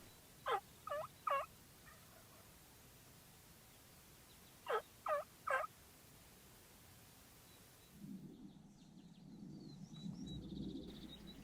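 A wild turkey gobbles from about 25 yards during a Colorado spring bow hunt, two distinct bursts of three rapid rattling calls each, clear and close against a quiet hiss of background noise.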